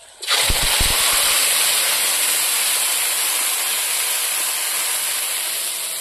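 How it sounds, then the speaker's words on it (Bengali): White cumin seeds hit hot oil in a pan and burst into a loud, steady sizzle that starts abruptly and holds strong throughout, a bright frying hiss close by with no voices. "এখন আমি সাদা জিরে দিয়ে দিলাম"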